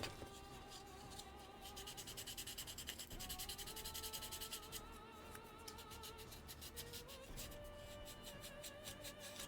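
Rhythmic back-and-forth strokes of sandpaper, roughly 200 grit, rubbing steadily on a surface for the whole stretch, with a fast scratchy pulse under steady background music.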